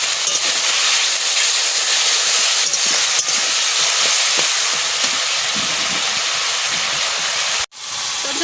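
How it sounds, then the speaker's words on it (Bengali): Spice paste with chilli and added water fries in a pan with a loud, continuous hissing sizzle. It drops abruptly to near silence just before the end, then resumes. "লঙ্কা, জল দিয়ে একটু মশলাটা একটু কষাই নিই।"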